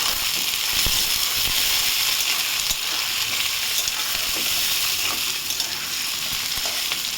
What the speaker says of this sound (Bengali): আলুটাও এর সাথে ভালো করে ভেজে নেব